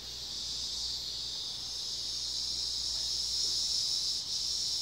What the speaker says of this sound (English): Sound like a cicada dying or something terrifying.